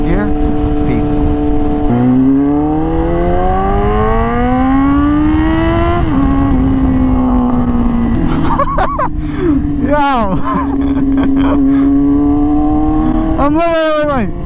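A Yamaha R6 with an insanely loud exhaust revs hard and close, its engine tone climbing and falling through the gears with sharp blips and crackles, and someone talks over the noise.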